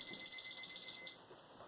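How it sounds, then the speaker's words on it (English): A kitchen timer going off in a home kitchen during casserole cooking: a rapid, steady electronic beeping tone that pulses continuously for about a second, then stops, fairly quiet against faint room noise. "the timer's going off."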